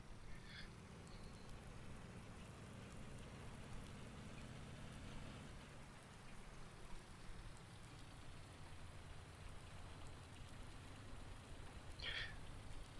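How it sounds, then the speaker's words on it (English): Outdoor rain falling as a soft, steady hiss on surfaces, faint and continuous throughout with no talk, and a couple of brief higher-pitched sounds near the start and end. "Oh, there's the rain. The rain's here."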